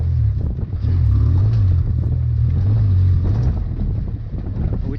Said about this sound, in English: It starts to pull immediately out of that hole, whereas before it would bog for a minute.